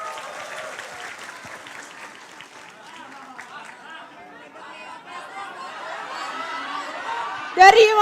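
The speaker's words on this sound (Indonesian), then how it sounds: "Tepuk tangan sekali lagi buat Antonius" An audience applauds at a public question-and-answer event in Indonesia, steady broadband clapping with some chatter and chuckles, swelling louder toward the end with a sharp burst near the close.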